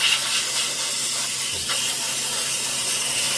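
A Harbor Freight steam cleaner blasts greasy deposits off a surface, a loud, continuous close-up hiss of steam that holds steady throughout, with no talk.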